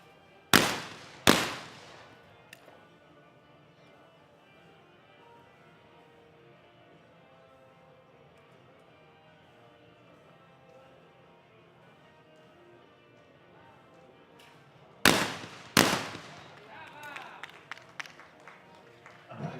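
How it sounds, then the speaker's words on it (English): Shotguns fire during a women's junior skeet final at an ISSF Junior World Cup in New Delhi: two sharp, loud bangs at the start, a quiet stretch, then two more shots followed by scattered clapping. "Saw the recoil there on that shotgun, and Ariana Nemba looks really focused."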